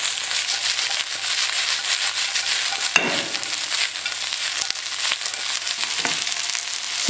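Broccoli, sliced white mushrooms and snow peas stir-fry in a hot pan, a loud continuous sizzle interrupted by two sharp scraping bursts as the vegetables are tossed.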